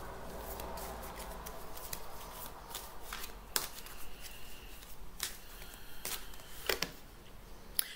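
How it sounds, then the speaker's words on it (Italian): Tarot cards are shuffled by hand at close range, with a steady papery riffling and brushing and several sharp slaps and snaps, heard alone. "iniziamo a mischiare le carte"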